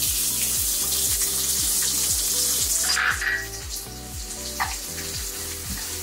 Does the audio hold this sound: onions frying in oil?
yes